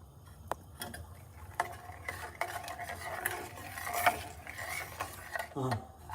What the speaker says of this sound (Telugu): బాగా కలుపుతూ మరిగించాలి.